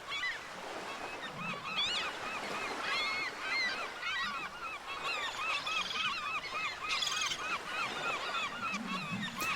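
Seagulls calling over surf in a shark video game, many overlapping cries and honks repeating against a constant wash of waves.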